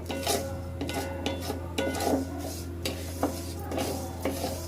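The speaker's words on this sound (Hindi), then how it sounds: "2-3 सेकंड पे आप चलाते रहिए इसे" Sevai vermicelli roasting in a pan is stirred steadily, with the spoon scraping and rustling against the metal in repeated strokes over a constant low hum, nearby and with no talking.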